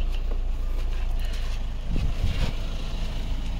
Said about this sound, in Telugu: ఇంజన్ సౌండ్ గిట చాలా బాగుంది, ఎలాంటి ఇబ్బంది లేదు సార్